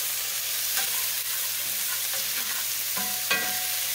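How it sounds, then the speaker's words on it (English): Celery cooking in butter and olive oil in a pan, a strong continuous sizzle close by with occasional scraping stirs and soft taps of a utensil against the pan. "I'm going to go ahead and stir this up"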